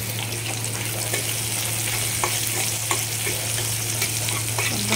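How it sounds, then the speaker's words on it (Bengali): Onions frying in hot oil for a Bangladeshi curry, a dense continuous close sizzle with light clicks of stirring scattered throughout, no voices. "প্রথমে এখানে তেল দিয়ে দিলাম, তারপরে দিয়ে দিব পেঁয়াজটা একটু লাল লাল করে ভেজে নিতে হবে"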